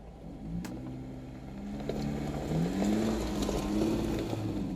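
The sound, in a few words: off-road vehicle crawling through desert canyon trail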